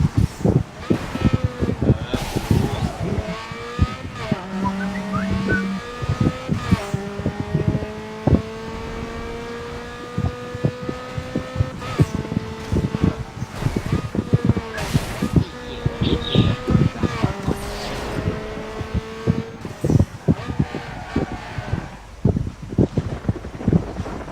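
Mazda MX-5 in Need for Speed Underground 2 spinning out and crashing, with a droning engine and tire squeals, rising and falling revs and sharp impact bursts throughout, under a loud, busy game mix.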